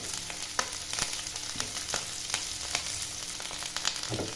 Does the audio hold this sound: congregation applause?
no